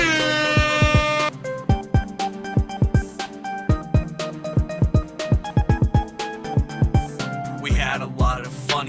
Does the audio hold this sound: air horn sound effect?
yes